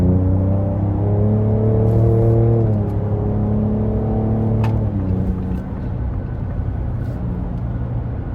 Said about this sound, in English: So the exhaust was already on sport.